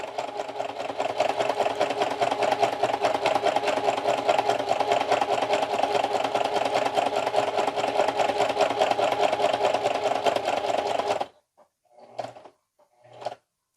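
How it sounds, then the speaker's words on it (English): A domestic sewing machine fitted with a walking foot quilts fabric in a steady, loud, continuous whirring run for about eleven seconds, then stops abruptly, leaving a few faint clicks and handling noises. "So now we're just using our walking foot very slowly."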